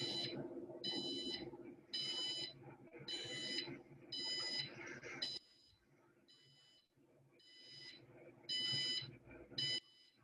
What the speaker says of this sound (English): So for sound the buzzer, you have the alarm.